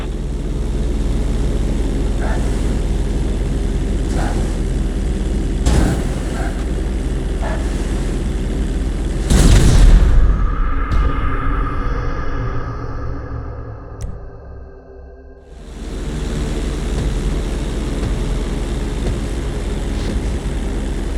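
In GTA V, a propeller plane's engine hums steadily during emergency landing practice on a road bridge. Midway a louder rushing surge hits, then the engine sound thins and drops away briefly before the steady drone returns.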